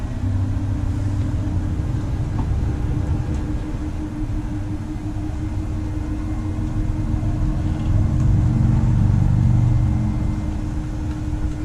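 The slide-out room of a 2013 Crossroads Zinger ZT-310-SB RV extends under motor power, a steady low electric hum and rumble that runs on evenly and swells slightly near the end, with no talk.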